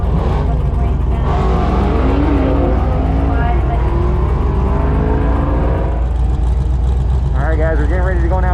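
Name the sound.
Jeep accelerating in a drag race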